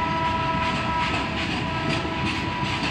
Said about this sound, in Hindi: खाली गाड़ी माल गाड़ी देखिए